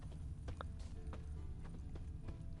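A horse in The Witcher 3 clip-clops along at a steady walking pace, each hoof strike a soft, distinct tap over a low background rumble, with no talking.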